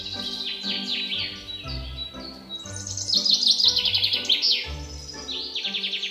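A cartoon bird chirps and tweets in quick repeated bursts, high bright calls that are loud and close, running continuously with no speech over them.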